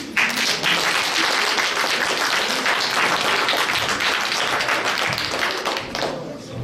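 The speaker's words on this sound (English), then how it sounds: "Give yourself a round of applause." Audience applause fills a hall after a talk at a speaker event: dense, steady clapping from many hands, loud and sustained, then thinning out at the end.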